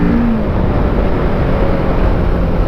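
A Kawasaki 650R motorcycle pulls hard under load, its engine drone loud and steady, thickened by wind noise, with a slight rising whine early on.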